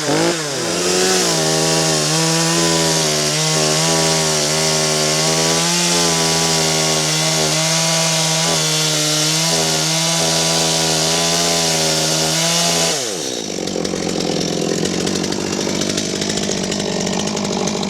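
A chainsaw runs loud and steady close by, its engine whining at a high, wavering pitch as it rips lengthwise through wood for a cabin ceiling, then dropping into a rougher, noisier buzz near the end.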